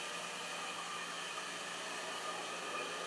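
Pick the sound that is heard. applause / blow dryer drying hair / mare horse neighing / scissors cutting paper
blow dryer drying hair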